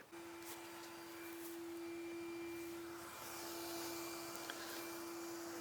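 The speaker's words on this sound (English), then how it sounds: "I've got a quiet little vacuum level going on there" Bee vacuum drawing up a spring swarm colony outdoors, a steady low whirring hum with a constant pitched tone running throughout, fairly quiet and alone without talk.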